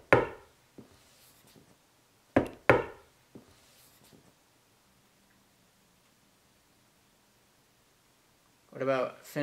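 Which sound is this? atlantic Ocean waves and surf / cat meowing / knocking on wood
knocking on wood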